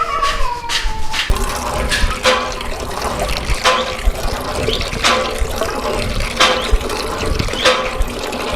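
Water being filled into a container in a village setting, a continuous gushing and splashing stream with repeated sharp surges, loud and close throughout.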